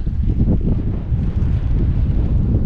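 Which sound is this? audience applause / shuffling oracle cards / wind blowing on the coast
wind blowing on the coast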